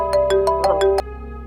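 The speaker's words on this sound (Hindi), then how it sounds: "सरफराज का फोन।" Mobile phone ringtone ringing indoors, six quick bright electronic tones in an even rhythm lasting about a second, loud and close, then cutting off to a quiet room hum.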